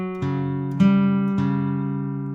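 Three plucked acoustic guitar notes sound one after another at an even pace, each ringing and blending into the next, close and clear.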